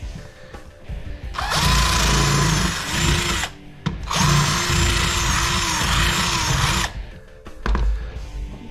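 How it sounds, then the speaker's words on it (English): A power drill bores out a screw on an industrial circuit breaker being scrapped for copper and aluminum, running in two long loud whining bursts with a brief pause between, then winding down. "I don't know if it pays to try to drill that out of there"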